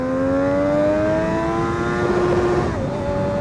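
A Triumph Daytona 675 motorcycle accelerates hard in first gear, its engine note climbing steadily and loudly for a few seconds before a brief dip like a gear change, with no talking.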